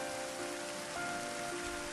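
Rain falls steadily in a video game, a soft, even hiss of drops on surfaces with no break and no voices.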